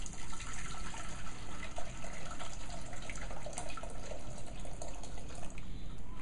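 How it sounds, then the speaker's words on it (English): Water poured into a pan resting on a lit cooker ring, a steady continuous pouring and splashing sound, close and moderately loud, lasting throughout without talk. "What I'm going to do now is pour our water"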